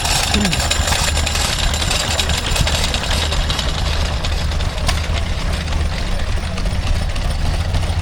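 A Ruston Hornsby stationary engine chugs steadily with a rough, knocking rhythm while an Atlas grinding mill grinds alongside, loud and continuous with outdoor show noise around it.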